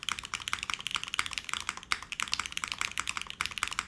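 Rapid, steady typing on a mechanical keyboard fitted with x-ray keycaps, a dense run of crisp clacky keystrokes heard up close with no talking.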